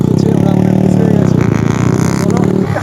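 A motorcycle engine revs hard during a wheelie, a loud, close, throaty drone that holds steady and surges slightly toward the end.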